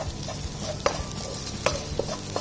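Cauliflower frying golden brown in a pan while being stirred, with a continuous sizzle and several quick scraping utensil strokes scattered through.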